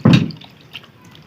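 Something being washed in water by hand, a single wet splash and slosh up front followed by fainter dripping and small watery movements.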